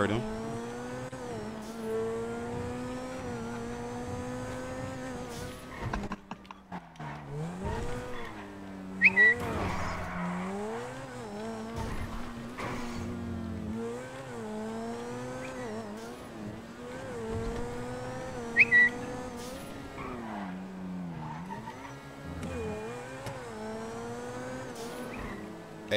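A car in GTA V roleplay drives with a steady engine drone and shifting revs, punctuated by brief tire squeals, under game music and occasional voices.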